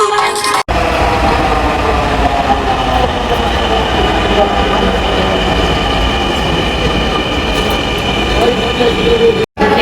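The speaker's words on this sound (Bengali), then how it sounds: "আমাদের ট্রেন চলে আসছে" A train pulls into a station, a loud, steady rumble of wheels and carriages with metallic squeal and hum filling the scene close by, running continuously before cutting off.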